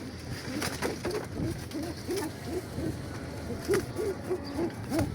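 Pigeons cooing repeatedly in a loft, soft rhythmic coos close by over a constant background hiss, with no one speaking.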